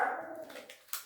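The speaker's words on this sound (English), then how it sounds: "I apologize for the noisy dog." A dog whimpers in a house where remodeling work is going on, with a drawn-out whining tone followed by a few short, sharp barks or yips, moderately distant and fairly faint.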